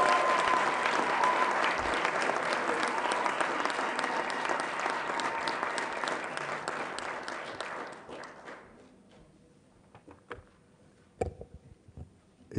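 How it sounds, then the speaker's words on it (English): An audience at a 2019 graduation ceremony in Zambia claps warmly, a dense sustained applause that thins out after about eight seconds into a few scattered claps and knocks. "Please join me in welcoming Mulumba Luatula with a warm round of applause"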